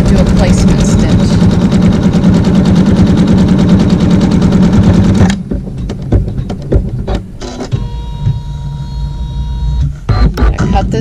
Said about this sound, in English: we're going to go ahead and sew a tack down stitch at the top and over on the left hand side